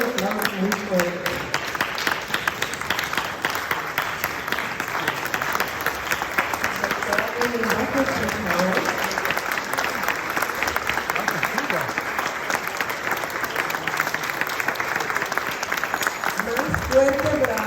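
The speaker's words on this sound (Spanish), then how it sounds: "a darle un aplauso muy fuerte" Audience at a conference lecture standing to applaud, a long steady roar of clapping from a large crowd with voices and cheers mixed in, sustained throughout.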